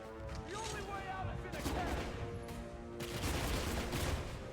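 Pistol fire in the video game Chronicles of Riddick: Assault on Dark Athena cracks out in a few sharp bursts amid a dense, busy game soundscape, with a voice talking alongside.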